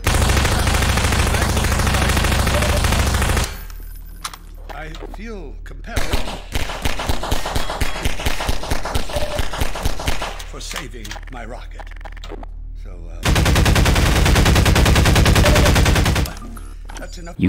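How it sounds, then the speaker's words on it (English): SMG and pistol gunfire from Half-Life 2 echoing in a hallway: loud sustained noise bursts, then a rapid run of sharp repeated shots, then another long, dense blast of fire. "The SMG and pistol sound weird in this hallway."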